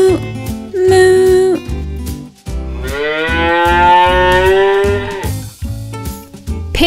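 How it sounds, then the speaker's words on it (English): Cattle lowing in a series of loud, close, drawn-out moos, several calls in a row with tonal, wavering pitch and short breaks between them. "A cow says, moo, moo."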